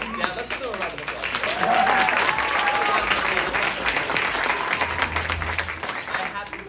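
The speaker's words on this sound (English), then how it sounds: "let's do a round of applause" Audience applause fills a Matilda Jr theatre show by The Actors Garage, steady broadband clapping from a sizable crowd that swells and holds for several seconds with some cheering and voices mixed in.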